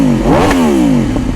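A big motorcycle engine revs up and falls away in one loud, close burst, the pitch climbing sharply then sliding down as it settles back toward idle.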